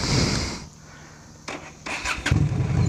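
Motorcycle engine starting: a starter whir and brief catches, then the engine firing with rising, uneven mechanical bursts, close and fairly loud, with no talk.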